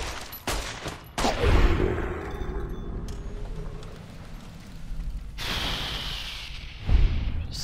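Heavy gunfire strikes an enemy in Fallout New Vegas, loud bursts of shots at the start and again near the end, with booming impacts and a rumbling tail between them.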